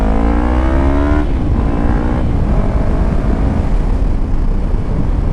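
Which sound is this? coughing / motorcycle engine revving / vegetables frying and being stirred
motorcycle engine revving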